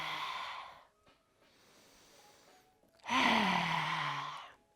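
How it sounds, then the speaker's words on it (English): A loud, breathy open-mouth exhale with the tongue out during yoga breathing: a first sighing breath, a quieter drawn breath, then a strong, forceful near exhale that fades out. "on your exhale, when you move forward, go ahead and open your mouth wide and stick out your tongue. Make a nice, loud, audible exhale."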